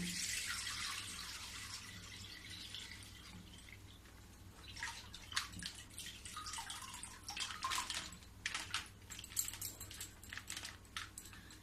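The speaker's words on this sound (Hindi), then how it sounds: "अब इसमें ये जो 1 किलो दूध ली हूँ फुल क्रीम के, इसमें डाल दूंगी।" Full-cream milk poured into an iron wok on a gas stove gives a steady hissing splash, followed by a run of uneven, bright spattering and trickling sounds.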